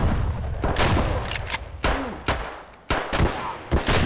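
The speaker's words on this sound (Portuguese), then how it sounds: "Alguém me atirou por trás." Gunfire in the video game Escape from Tarkov: about half a dozen sharp, loud shots at irregular intervals, some in quick pairs, each followed by a brief echoing tail.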